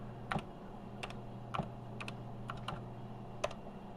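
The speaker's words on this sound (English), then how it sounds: "Oh, this keyboard types perfectly." Individual key presses on a TRS-80 computer keyboard, about eight crisp clicks in an uneven, unhurried rhythm, close and clear over a faint steady hum, with no talking.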